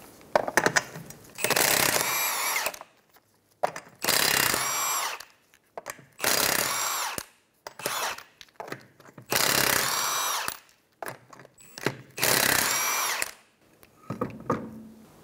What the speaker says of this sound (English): Using a 21 millimeter socket, we're gonna remove the 5 lug nuts.